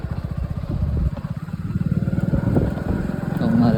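A motorcycle putters along a bumpy village road, its engine chugging in a fast, uneven rhythm close by, with jolts and rattles over the rough surface and a voice speaking over it.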